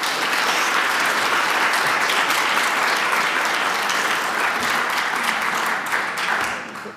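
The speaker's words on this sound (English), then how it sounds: "Let's give Lindsey another round of applause." A conference audience applauds a student presenter at an honors conference, the dense clapping holding steady for several seconds before thinning out and fading toward the end.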